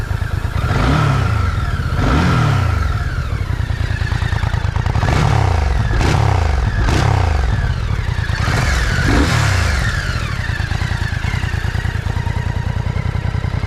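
An MBP C1002V cruiser motorcycle sits in neutral with its engine running, revved repeatedly from a deep idle into short rising bursts, loud and close, with no talking.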